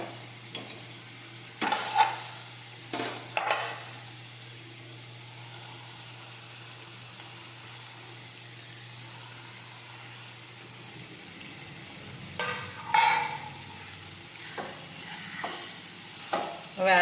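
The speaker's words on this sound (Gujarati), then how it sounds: "હવે આપણે તળેલો ભીંડો તેમાં નાખીશું" Fried okra goes into a finished gravy in a pan for a stuffed okra curry, and the pan answers with a soft sizzle under scattered clinks and scraping stirs, which come in short bursts near the start and end.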